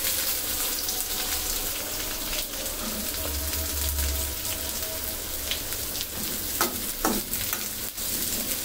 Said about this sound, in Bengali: এখন এই পেঁয়াজ রসুন একসঙ্গে ভেজে মানে মশলার সাথে ভেজে হালকা ভেজে নিতে হবে